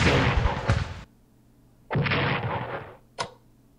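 Artillery cannon fire in an American Civil War strategy game: two long, loud booming blasts roughly a second apart, followed by a shorter, sharper report, with quiet gaps between.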